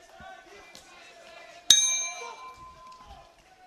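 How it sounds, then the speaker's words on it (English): A single sharp boxing bell clang marks the end of round one at a world championship bout, ringing out and decaying over crowd murmur and commentary. "There goes the bell at the end of round one."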